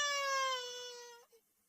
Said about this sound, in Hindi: मकान के अंदर से किसी बच्चे की रोने की आवाज आ रही थी